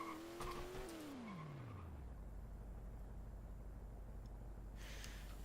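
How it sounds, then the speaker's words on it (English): Car drifting a downhill mountain-pass hairpin and understeering: tires squeal loudly with a falling engine pitch, then a sustained broad skid roar that carries on steadily to the end. "This is what happens if you try to drift the hairpin normally going downhill."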